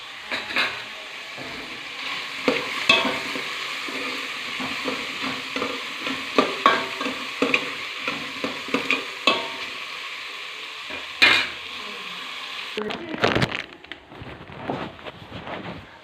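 A spoon stirs salted macaroni in a pot, making a steady run of close scraping knocks and clatters for about twelve seconds before a final louder clunk and a quieter tail.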